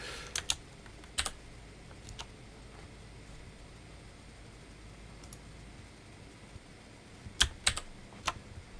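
Keys clatter on a computer keyboard in short, scattered bursts of sharp clicks, near and fairly quiet, with pauses of near silence between clusters and no talking.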